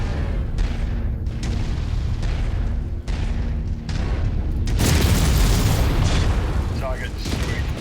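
A loud explosion marks a target being destroyed in the MechWarrior game Rise of Rasalhague, a heavy rumbling blast rising partway through over a continuous battle din, with synthesized radio voices heard around it.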